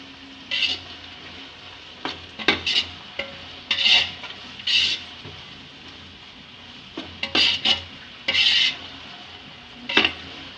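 A spoon scrapes and stirs ginger-garlic paste around a cooking pan for biryani, giving irregular clinking and scraping bursts separated by short quiet gaps.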